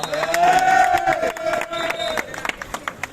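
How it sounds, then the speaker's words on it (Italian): A street crowd at a procession on the Via San Giuliano climb in Catania claps and cheers, with one long shouted voice rising above the dense, steady din. "Un applauso a Daniele!"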